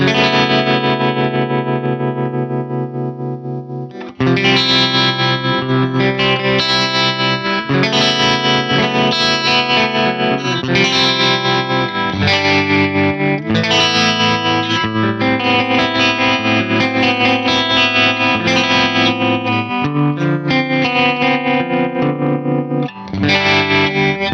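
An electric guitar runs through the tremolo of a Korg AX1500G multi-effects unit, playing loud sustained chords with a steady pulsing wobble that continues without pause for the whole stretch, with no voices.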